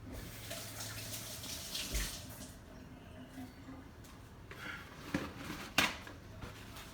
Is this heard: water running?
yes